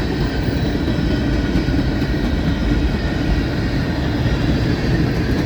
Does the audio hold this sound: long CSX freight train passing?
yes